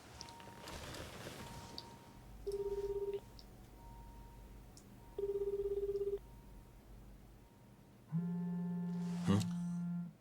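A telephone call is placed: faint keypad sounds, then three evenly spaced ringback tones of about a second each, the last one louder with a brief click, heard alone against low room noise.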